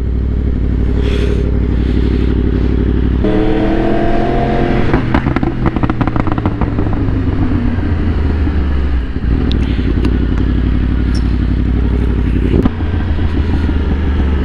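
A 2023 Yamaha R1 sport motorcycle ridden on an open road, its engine revving and roaring up through the gears with loud rising and falling pitch, close and continuous with wind rush.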